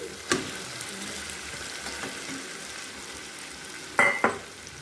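Fried potatoes and capsicum being stir-fried with spices in a pan, with a soft steady sizzle and a few sharp clinks of a spatula against the pan, close, with no talking.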